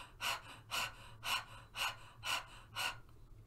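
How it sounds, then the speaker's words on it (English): Breath of fire practice for balancing the root chakra: six forceful, rapid exhalations pumped from the abdomen in an even rhythm, close and moderately loud, with no talking. "I'm gonna demonstrate just for a moment what breath of fire is."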